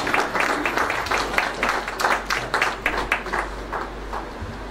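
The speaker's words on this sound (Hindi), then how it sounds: "तालियों के साथ हम अभिनंदन करेंगे।" Audience applause greeting guests at a Hindi book-launch ceremony for a lyricist, a sustained wash of many hands clapping with steady, dense rhythm throughout, moderately loud and without speech.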